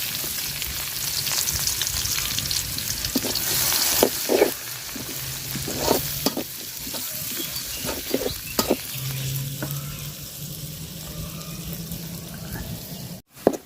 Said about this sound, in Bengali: পেঁয়াজটা লাল লাল করে ভাজা নিছি